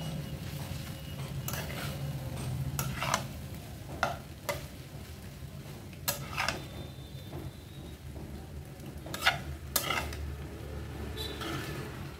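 Vegetable Maggi noodles stirred in a pan, a low steady sizzle broken by several sharp scraping strokes of a spoon spaced through the stretch, with no voices.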